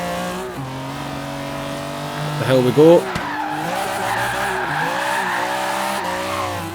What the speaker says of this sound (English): God, you gotta love this straight six engine, man.